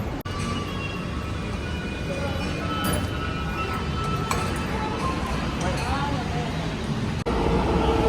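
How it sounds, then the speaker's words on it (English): A metro train in Medellín rumbles into a station with a steady mechanical roar, metallic clinks and squeals rising over the noise, heard from the platform. "And our train's coming in."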